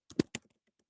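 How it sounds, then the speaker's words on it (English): A few quick keystrokes on a computer keyboard, three close, crisp taps followed by faint lighter clicks, isolated in an otherwise quiet room. "I'm just going to start by typing in capitalism and see what I find."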